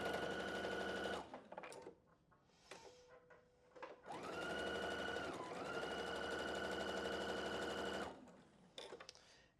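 A sewing machine stitches a quilt block seam in two loud, steady runs, one short burst near the start and a longer sustained whir after a pause, with quiet handling noises between.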